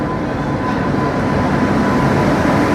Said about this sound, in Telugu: ఏదో ట్రైన్ అయితే వచ్చింది తిరుసూర్లా